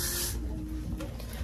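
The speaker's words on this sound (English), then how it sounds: "I'm gonna put this got to be spray on it." A short hiss of Got2b hairspray sprayed onto crimped hair, bright and close for a fraction of a second before giving way to quiet room noise.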